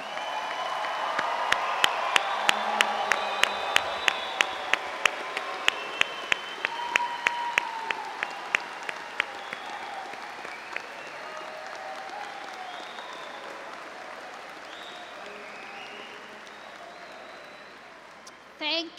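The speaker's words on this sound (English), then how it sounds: "Let's give them a big round of applause." Applause for rising graduates at a summer commencement ceremony, a broad sustained crowd clapping with a loud, regular, sharp beat cutting through early on, fading gradually as the clapping thins before a brief final sound.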